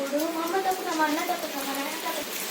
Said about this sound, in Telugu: వర్షం అయితే చూడండి ఏం పడుతుందో ఫుల్గా